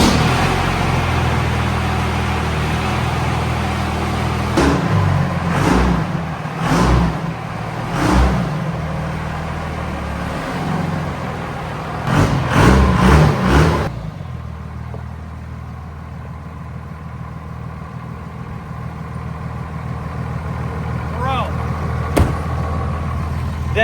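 Second-generation Cummins diesel truck engine in a shop, loud blended bursts of cranking and revving over the first half, then settling into a steady, lower idle rumble with faint clinks.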